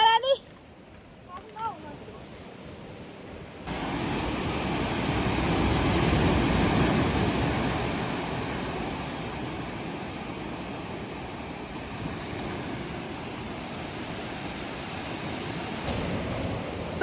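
Sea waves breaking on the Cornwall coast make a steady, broad wash of surf that swells and holds for a long stretch, with faint voices and handling noises briefly at the start.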